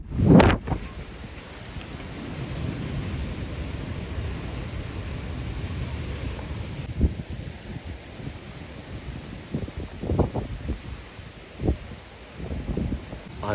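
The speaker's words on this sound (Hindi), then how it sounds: "बारिश प्लस आंधी।" Steady rain patters and hisses on a rooftop while gusty storm wind rumbles low, with a few sharper bursts and rustles standing out near the end.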